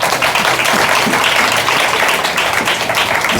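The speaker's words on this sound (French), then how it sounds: "On applaudit Jésus pour révélation." Dense, sustained applause from a church congregation during an evening Christian service, loud and continuous throughout with no pauses.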